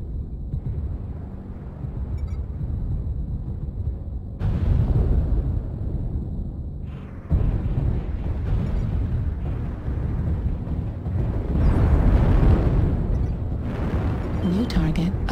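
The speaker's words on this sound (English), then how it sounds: "Warning, incoming missile." Missile explosions in a mech combat game, deep rumbling booms that swell and hit in waves over a constant low roar, with a synthetic voice speaking across them.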